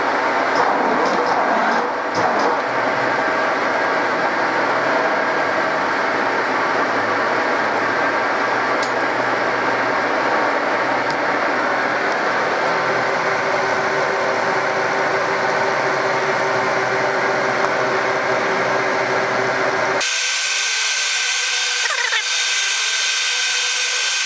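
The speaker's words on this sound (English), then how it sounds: "let's start drilling." A machine drill bores with automatic feed at 100 millimeters per minute, a loud steady grinding and motor drone running unbroken for about twenty seconds before cutting off abruptly, leaving a quieter high-pitched hum.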